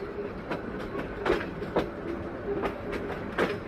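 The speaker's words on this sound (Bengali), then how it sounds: "ট্রেন ছেড়ে দিয়েছে" A moving passenger train in northern Bangladesh heard from inside a carriage, a steady rumble with regular clickety-clack wheel beats over the rail joints, fairly close and continuous, without voices.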